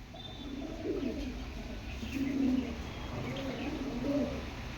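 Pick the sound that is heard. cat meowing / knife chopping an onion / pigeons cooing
pigeons cooing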